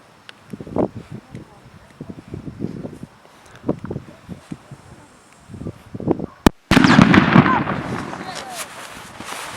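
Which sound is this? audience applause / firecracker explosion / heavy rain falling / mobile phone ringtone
firecracker explosion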